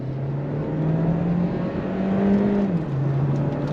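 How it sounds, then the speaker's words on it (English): A 2022 VW Taos with 4Motion all-wheel drive pulls away from a traffic light on throttle, its engine drone rising steadily through a gear change, heard from inside the cabin with no talking. "pulling away from the light, on throttle,"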